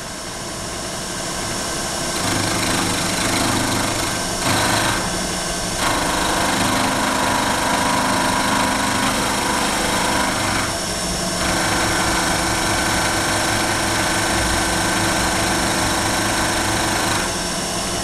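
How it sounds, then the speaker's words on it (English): Milling machine climb milling dry with a 5-flute carbide end mill at 1200 RPM, a loud continuous whine and hum with a steady motor drone, running alone without talk throughout. "This is a 5-flute carbide end mill. I'm at 1200 RPM there."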